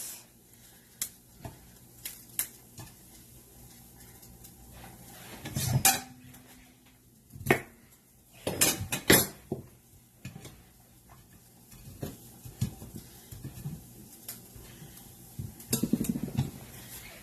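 Broccoli goes into a pot for boiling, with a series of close metallic clanks, knocks and clatters of cookware at irregular intervals, some louder bangs midway, and no talking.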